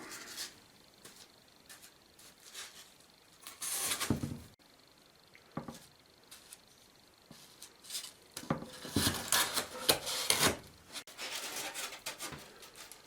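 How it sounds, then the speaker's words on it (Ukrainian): Wood offcuts are set into a wooden beehive roof by hand, producing sparse, close wooden knocks, clatters and rustles in irregular bursts, with quiet gaps between. "Після цього я заповнюю весь дах відходами від виготовлення корпусів."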